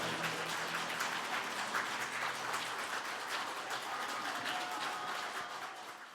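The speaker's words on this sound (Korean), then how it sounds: "박수 부탁드립니다" An audience at a Buddhist spring dharma service at the National Assembly claps in a dense, steady round of applause heard from a distance, fading slightly toward the end.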